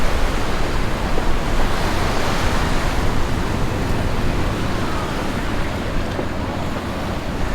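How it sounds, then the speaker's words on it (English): Ocean waves roll in at Hanauma Bay on Oahu, a steady, close roar of surf mixed with wind that stays loud and unbroken throughout. "And waves are actually rolling in today"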